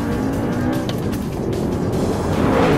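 An Audi R8 engine pulls hard through a fast lap, a loud, steady in-car drone with rising and shifting pitch, joined by occasional tire and wind noise and no talking.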